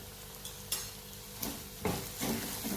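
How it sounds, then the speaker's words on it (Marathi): Spiced masala with coriander powder stir-fries in a pan, a soft steady sizzle with a spoon scraping and stirring now and then. "तर यालाही व्यवस्थित परतवून घ्यायचं आहे आपल्याला"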